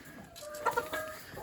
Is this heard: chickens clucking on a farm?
yes